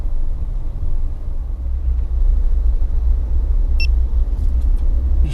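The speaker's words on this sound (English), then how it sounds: "just driving around and see what it's like" Car driving through town streets and a subdivision during a major snowstorm, a steady low road rumble and engine drone from inside the cabin, continuous throughout with a few faint high clicks near the end.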